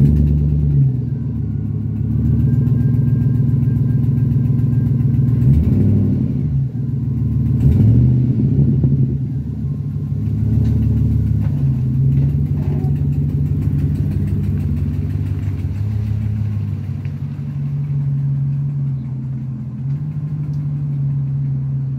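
A tractor engine runs loud and close with a steady low rumble, the rhythm shifting slightly as it settles into idle, with a few knocks and rattles over the continuous drone.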